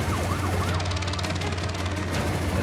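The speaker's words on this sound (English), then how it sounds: "There's the siren, there's the siren." A wailing siren rises and falls repeatedly at a boma during a helicopter giraffe capture, sounding over a steady, loud rotor throb with a low hum beneath.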